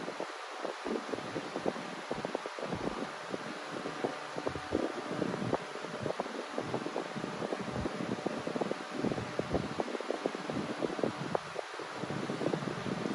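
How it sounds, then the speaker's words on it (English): A Costway high-velocity fan with oil ports runs its motor and blades, making a steady, faint, airy whir with light rustling flutter throughout and no talking. "I like the way the motor sounds with the blades."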